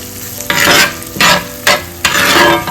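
Onions and spices fry in coconut oil while a spoon stirs them, loud close sizzling that surges in four rhythmic scraping sweeps over a constant hiss, with no one talking.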